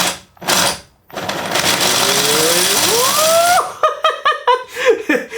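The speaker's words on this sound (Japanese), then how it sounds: "いつも通り粉砕装置にこのパーツをはめ込んでインパクトドライバーをセットします。" An impact driver spins a crusher: a loud whirring whine climbs in pitch, then a rapid series of hammering bursts rattles close by, broken by brief pauses.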